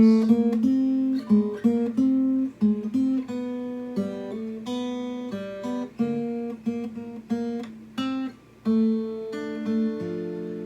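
A plucked fingerstyle guitar picks out a single-note melody with bass notes beneath, each pluck sharp then fading, played at a relaxed, uneven pace.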